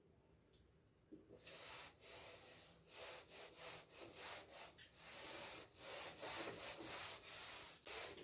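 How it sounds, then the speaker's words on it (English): An eraser or duster rubs across a board to wipe off a trading and P&L account, giving a steady run of close, rhythmic scrubbing strokes with a hissy, papery texture and no talking. "Now I will rub this trading and P&L account so that we can prepare balance sheet here."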